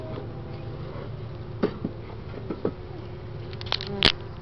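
Honeybees buzz faintly and steadily around hive frames holding brood comb, a low continuous drone with a few brief louder passes of individual bees close by.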